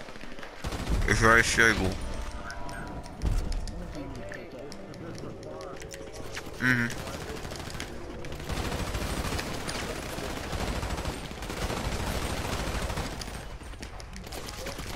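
Submachine gun fire in the video game Grand Theft Auto V comes in a few short bursts under steady talking, with a louder volley early on and another brief one midway.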